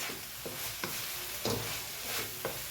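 Long beans and grated coconut fry in a pan, making a soft, steady sizzle broken by a few light scraping stirs, faint and close, with no talking.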